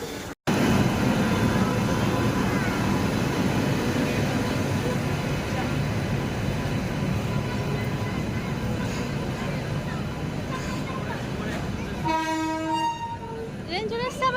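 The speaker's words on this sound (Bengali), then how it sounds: "ট্রেন চলে এসছে আমাদের।" A train pulls into a station platform with a loud, sustained rumble and rattle, ending in a series of horn toots; voices are heard over it.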